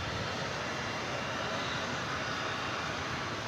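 Airliner taking off at DFW Airport gives a continuous, even jet-engine roar, a broad steady rumble at moderate distance with no talking over it.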